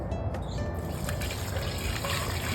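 A kava mixture pours into a straining bag in a continuous liquid splash and trickle, steady and fairly close throughout.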